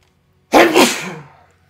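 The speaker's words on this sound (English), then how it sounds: "I had to sneeze pretty heavily" A single heavy human sneeze, loud and close: a sharp explosive burst that trails off over about a second against near silence.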